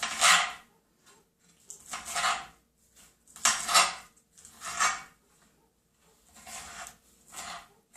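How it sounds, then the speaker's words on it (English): A knife chops spinach on a cutting board in a bursts-and-pauses rhythm, each quick cluster of crisp taps separated by short gaps, close and fairly quiet with no talking. "Just kind of chop that all up into littler pieces."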